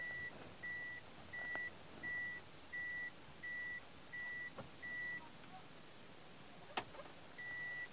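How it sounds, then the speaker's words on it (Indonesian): An automatic car backing up, its reversing beeper chiming in a steady evenly spaced series of clear tones, fairly faint against a quiet background with a brief click partway through. "Coba kita jalankan mundur ya guys."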